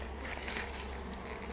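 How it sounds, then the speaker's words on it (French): Honeybees buzzing steadily at an open beehive during a spring inspection, a continuous close drone with no talk over it. "on a une ruche qui est en super forme"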